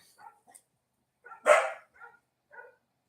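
A small dog on a farm gives a few short, faint barks and yips spread out with gaps, one louder bark standing out in the middle, no talk over it.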